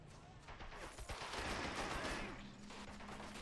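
Heavy, dense gunfire in the WWII strategy game Men of War: Assault Squad 2 during a beach invasion, a continuous distant roar of overlapping shots and rumble, fairly faint and steady with no clear single reports.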